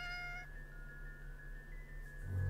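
A cat meows inside a video game, a short tonal call standing alone over steady game music and background hum, with no talk.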